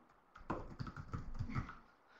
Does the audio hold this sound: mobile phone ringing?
no